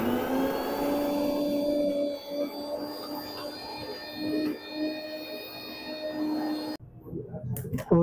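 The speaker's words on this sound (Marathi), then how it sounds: "चालू कर देंगे मिक्सर।" A kitchen mixer grinder runs with water added, giving a steady motorized whir that holds for several seconds, then cuts off abruptly, leaving brief clattering handling noises.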